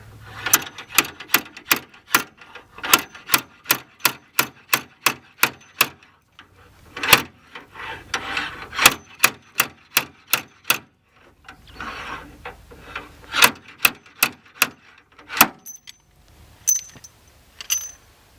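Sharp metallic impacts repeat in quick rhythmic bursts, pausing and resuming several times, loud and close, as a slide hammer pulls on the damaged front panel of a Renault Megane.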